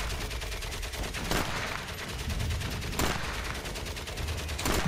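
Rapid bursts of gunfire in the video game Valiant Hearts: The Great War, several sharp volleys repeating over a steady noisy background, loud and close.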